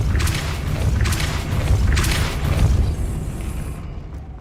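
Depulso spell cast in Hogwarts Legacy, a loud booming whoosh with rumbling bursts repeating several times over a few seconds before cutting to quiet.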